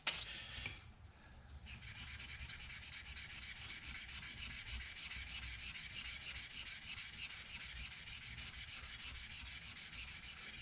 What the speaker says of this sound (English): Now this part requires obviously nothing more than some sandpaper